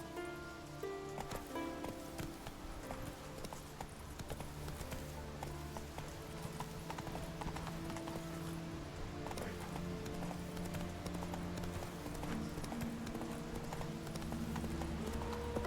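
A horse walking in the video game The Witcher 3 Wild Hunt gives steady, rhythmic clip-clop hoofbeats throughout, moderately close, over faint ambient game sound and rustling.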